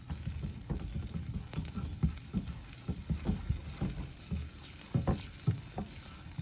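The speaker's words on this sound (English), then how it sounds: "I'm gonna give that a stir." Garlic sizzles in a hot pan while being stirred, a constant close frying hiss broken by repeated scraping and clattering strokes, with no talking.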